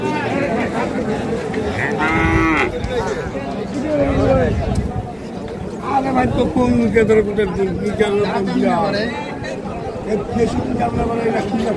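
Bulls and cattle low now and then amid the busy chatter and crowd babble of a Qurbani livestock market in Chittagong, where people talk and bargain throughout.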